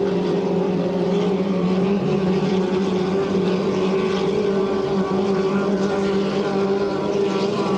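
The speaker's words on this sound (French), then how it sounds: "On a une bagarre pour la troisième place dans le virage numéro 1, alors que Lecomte lui file loin devant." 2.5-litre racing hydroplanes at a heat on the water at St-Félicien, rounding the first turn: a loud, steady engine roar that holds without a break for the whole stretch.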